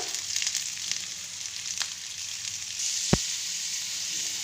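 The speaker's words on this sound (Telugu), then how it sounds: "అల్లం వెల్లుల్లి ఎర్రగడ్డలు అన్నీ వేసి వేయించుకోవాలన్నమాట" Spices with ginger-garlic paste and onions sizzle in hot oil for a paneer curry, a steady broadband frying hiss with a brief sharp clink of a utensil near the end, no voices.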